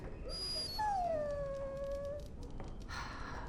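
A dog in the video game Dragon Age: Origins lets out one long, rising-then-falling whimpering howl over steady background noise, with no speech during it.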